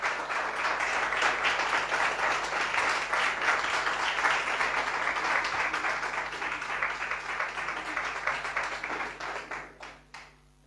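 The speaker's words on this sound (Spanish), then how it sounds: "Dale un fuerte aplauso al Señor." A church congregation claps loudly for the Lord during a Spanish-language sermon, giving a steady, dense burst of applause for about nine seconds that tapers off to scattered claps at the end.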